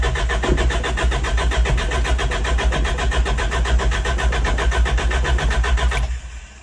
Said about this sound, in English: Let's just try to start the truck regular right now.